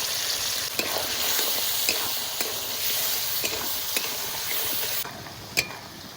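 Silver carp fish fat sizzles and spits in a hot wok, a continuous crackling hiss broken by a few louder pops and stirring clinks, with no talking.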